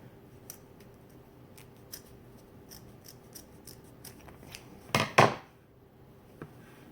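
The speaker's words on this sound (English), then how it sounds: "you take your pair of scissors and you just cut at an angle" Scissors snipping through folded fabric at an angle while making a bow: a string of quiet, crisp snips, then two louder closer cuts near the end.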